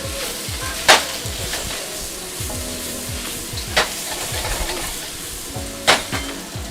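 Vegetables stir-fry in a wok over very high heat for braised lion's head meatballs, with a steady loud sizzle and repeated scraping stirs, plus three sharp clanks of a utensil against the wok.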